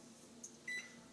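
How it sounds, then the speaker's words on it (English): A microwave oven heats a plate of bread and eggs, its low hum steady underneath, a short high beep partway through and a longer tone near the end. "Pop your whole plate, bread and eggs in the microwave"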